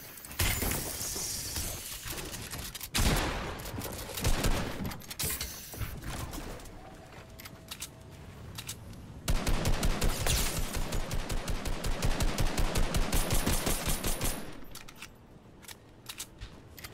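Rapid gunfire from Fortnite, with scattered bursts of shots early on, then a long, dense run of automatic fire that fades near the end, mixed with clattering mechanical noises.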